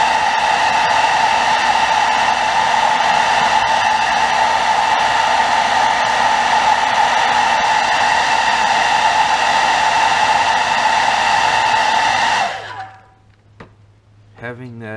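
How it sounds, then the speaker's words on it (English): A blow dryer heat-sets fresh paint on a custom bluegill-pattern crankbait, giving a loud, steady close-up whir for about twelve seconds before it cuts off abruptly into near silence. "Having that blow dryer hanging right there is such a lifesaver and time saver."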